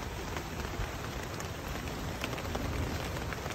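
Steady rain pours down on a farm during a storm with landslides and flooding, a dense, even hiss of drops hitting surfaces with no voices.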